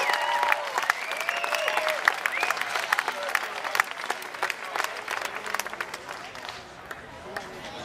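Audience applause at a banjo expo following a banjo performance, dense and sustained clapping with some whoops and a few voices mixed in, fading slightly toward the end.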